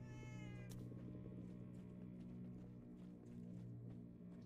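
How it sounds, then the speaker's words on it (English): A cat meows in the Minecraft: Story Mode video game, with a rising harmonic cry near the start over a steady, fairly loud game background hum and music. "there's where the meowing's coming from."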